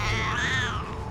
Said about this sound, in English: Get the cat to meow.